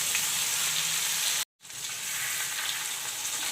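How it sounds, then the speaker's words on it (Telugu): Fish pieces fry in oil in a pan, a loud, steady, close hiss of sizzling that cuts off abruptly for a moment and then resumes at the same level. "ఇలా ప్యాన్ లో పెట్టుకొని నూనె వేసి వేయించాలి"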